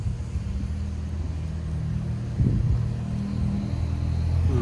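A Honda CRF450R engine from a 2006 bike, fitted to a three-wheeler trike and running a little lean down low, idles with a steady low rumble that swells slightly partway through.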